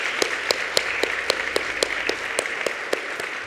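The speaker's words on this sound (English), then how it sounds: "let's just give her one more round of applause for her hard work." Applause from an awards event audience, a thin spread of clapping with a few distinct, evenly spaced sharp claps standing out in a regular rhythm, moderately loud and close.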